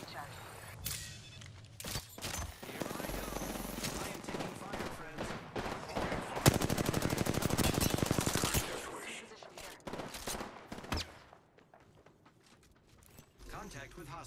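Automatic gunfire in the Apex Legends video game, loud bursts and rapid rattling fire with a dense sustained stretch in the middle, mixed with game sounds and voice callouts.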